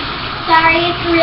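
Water running into a bathtub, warmed for a dog's bath, a steady rushing gush with a loud, close presence throughout.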